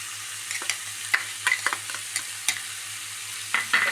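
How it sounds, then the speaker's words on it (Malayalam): A spoon stirs crushed black pepper into a cauliflower curry in a pan over a low sizzle, giving a series of soft scrapes and clinks spaced irregularly, close and fairly quiet. "നന്നായി മിക്സാക്കി കൊടുക്കാം"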